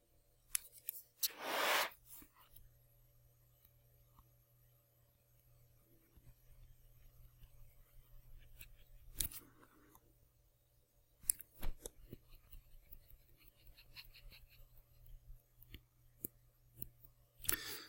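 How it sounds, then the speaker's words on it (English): Paper scissors snip loudly at the start while a kite shape is cut from a sheet, followed by a few fainter scattered snips and clicks against a quiet steady background hum. "and then I cut this kite out of it"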